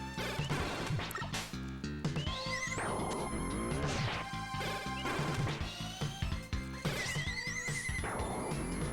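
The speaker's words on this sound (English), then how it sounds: "We're going to switch between Noise Crush and regular Buster just to get some extra damage." Mega Man 7 boss fight using the Noise Crush weapon, with dense chiptune music, rapid blaster shots, rising sweeps and crashing hit effects packed together loudly over nine seconds.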